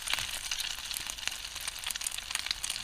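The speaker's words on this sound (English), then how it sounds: "But I hear it sizzling." A chicken patty fries in a Pathfinder canteen cup skillet outdoors, a continuous faint crackling sizzle with scattered pops and no voices.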